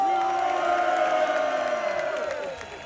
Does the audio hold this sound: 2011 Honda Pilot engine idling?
no